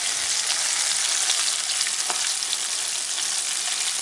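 Eel pieces sizzle and fry steadily in a hot pan, skin side down to crisp, a dense continuous crackle with small pops and no voices.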